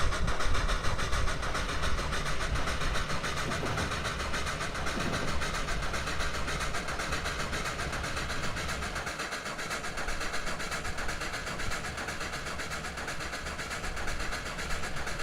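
Steady diesel locomotive rumble and rolling rail noise from a CSX-liveried B&O engine in the Trainz simulator, a continuous broadband drone that stays at an even level throughout, with no voices.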